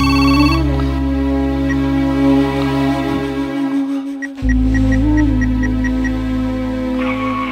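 A telephone rings out on an outgoing call, a repeating electronic ringback tone in evenly spaced pulses over a sustained tonal background, fairly loud and with no speech.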